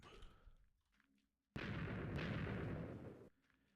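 Explosion in the Minecraft video game, a sudden loud blast that bursts in abruptly and holds as a dense roar for nearly two seconds before cutting off, after quiet game ambience.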